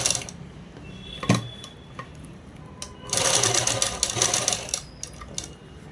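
Sewing machine stitching a cloth lining for a child's langa and blouse, running in short bursts with a longer steady whir midway, close and moderately loud, with light handling clicks between.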